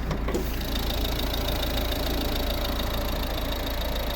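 A 2012 Volvo V50 D2 1.6 diesel engine idles steadily at close range, a constant low rumble with a faint rhythmic knocking and no other sounds.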